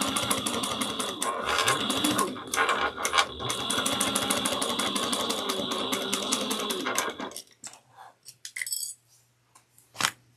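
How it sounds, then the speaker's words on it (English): A sewing machine top stitches a clutch wallet seam at 1/8 inch, running in a fast, steady, close stitching rhythm for about seven seconds before stopping, followed by a few faint clicks and handling noises. "we're gonna top stitch this at 1/8 of an inch"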